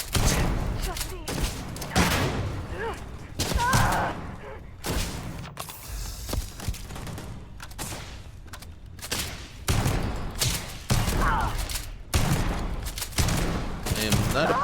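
Gunfire in the sci-fi shooter Starfield crackles in repeated bursts and volleys, loud and close, with intermittent gaps between them and a player's voice talking over parts of the action.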